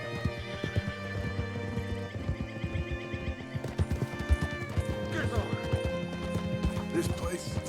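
Horse hooves clop steadily while a horse whinnies in Red Dead Redemption 2, set against a layered game soundtrack, with characters talking over the riding sounds.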